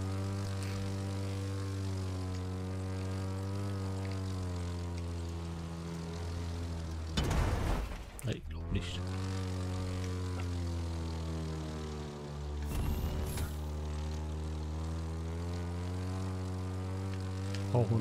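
Propeller airplane engine in the video game The Crew 2, a steady droning hum with strong harmonics held throughout, briefly broken by two loud whooshing bursts partway through.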